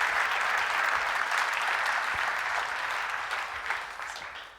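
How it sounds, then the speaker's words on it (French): An audience at a round-table discussion applauds steadily, a dense, sustained wash of clapping that holds even and fairly loud before tapering off slightly at the end. "On peut l'applaudir."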